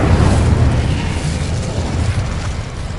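Spell effects blasting in the Hogwarts Legacy game, a loud, deep rumbling boom that swells at the start and rolls on with heavy low-end crackle, fading slightly toward the end, with no talking.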